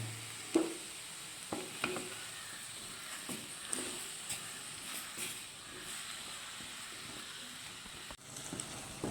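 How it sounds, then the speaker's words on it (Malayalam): Chopped onions fry in a pan with a soft, steady sizzle, and occasional quiet scrapes come from stirring. It is faint and close, with no talking. "സവാള അരിഞ്ഞത് ഇളക്കി കൊടുക്കാം"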